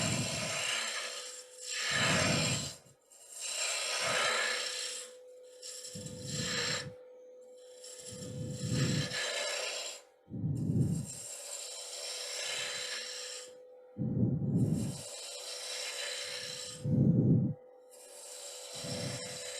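A gouge on a wood lathe slicing a spinning spurdle blank, repeated rhythmic rasping cuts coming in bursts of a second or two over a steady lathe hum, close and moderately loud.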